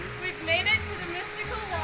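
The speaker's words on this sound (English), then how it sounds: "Mystical waterfall." A waterfall gives a steady broadband rush at moderate level throughout, with faint voices partly over it.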